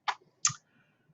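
Two sharp, close clicks about a third of a second apart, a key press followed by a computer mouse click, against an otherwise quiet background.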